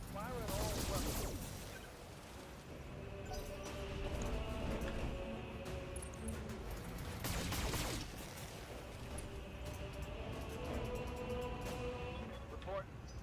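Mech weapons fire in a MechWarrior-style Kerensky battle game: dense bursts of gunfire and heavy impacts with two louder volleys near the start and middle, with radio voices and game noise continuing throughout.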